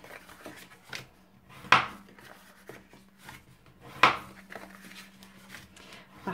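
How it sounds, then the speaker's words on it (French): A bone folder scores creases into paper for a two-tone gift box base and lid: soft, close scraping strokes punctuated by two sharper, crisp strikes a couple of seconds apart, in a quiet room. "je vais bien marquer les plis avec le plioir en os"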